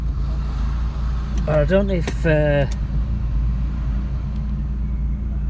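A Vauxhall Cavalier Mk2 fitted with an SRi130 engine idles just under 1000 RPM with a slight hunting rise and fall, a steady loud low rumble throughout while someone talks briefly over it.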